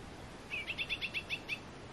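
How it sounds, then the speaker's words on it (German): Birds chirp on a quiet hillside plot: a quick run of about eight bright, high tweets in a steady rhythm, faint and somewhat distant, over soft open-air hush with no talking. "Man hört nur die Vögel."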